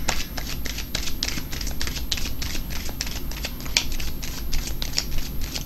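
A deck of oracle cards is shuffled by hand, a steady rapid series of crisp riffling flicks and slaps repeating close to the microphone with no talking.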